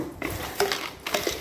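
A plastic kitchen storage container lid handled on a counter, a few light clicks and taps spaced across a second or so, close and quiet.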